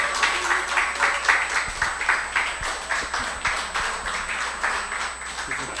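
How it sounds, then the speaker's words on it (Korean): A church lecture audience claps in a steady, rhythmic patter to welcome a speaker, moderately loud and sustained, with a faint constant high tone in the background. "박수로 맞이해 주시면 감사하겠습니다"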